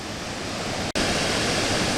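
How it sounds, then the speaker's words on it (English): Noccalula Falls, a city-park waterfall, rushing in a loud, steady broadband roar that fills the whole clip, broken once by a brief dropout. "but this is the waterfalls"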